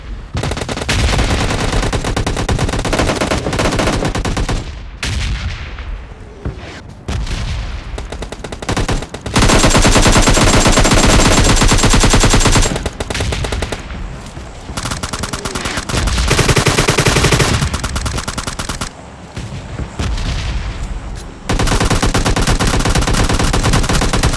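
Rapid bursts of M416 rifle fire in a battle royale video game, loud and sustained, broken by short pauses between long automatic strings, with no talk.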